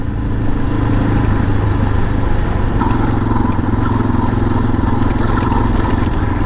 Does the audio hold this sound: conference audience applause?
no